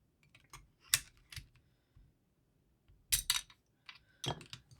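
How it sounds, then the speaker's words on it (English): Keycaps being pulled off a custom mechanical keyboard give sharp plastic clicks and snaps in separate quick bursts, with quiet gaps between them, close up. "you just take the keycap off"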